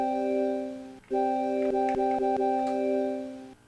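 A MicroKorg organ sample sounds the root and fifth together at original pitch, a steady sustained tone held about three seconds with a brief gap near the start and a few soft clicks, fading at the end.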